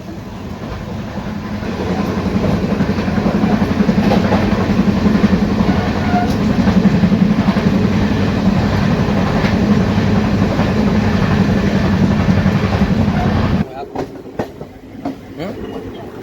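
The Nanded–Adilabad Intercity Express rolls along in heavy rain with a loud, continuous rumble and clatter of wheels that builds early and holds, then drops abruptly near the end to softer scattered knocks.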